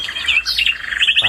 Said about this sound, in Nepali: चराचुरुङ्गीको चिरबिर आवाज छ।